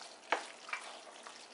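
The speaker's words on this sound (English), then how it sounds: "let's just mix this all up really good here." A spoon stirs a thick, cheesy mac and cheese casserole mixture with bacon and cheeseburger in a bowl, giving soft, wet squelching scrapes, a few louder swishes, fairly quiet and close.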